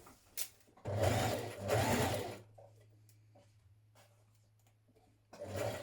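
A sewing machine stitches dress lining pieces in two short, close whirring bursts, then a pause with light handling noises before a third burst starts.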